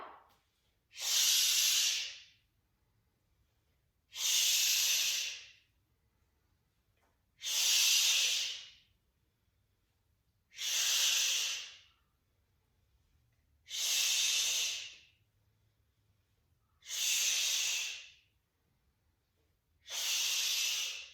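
Deep breathing in a horse stance during a yoga flow: seven slow, evenly spaced breaths hiss close and clear, each separated by near silence.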